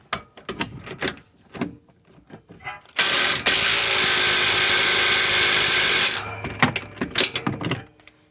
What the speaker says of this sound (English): So now I can tighten down that bolt.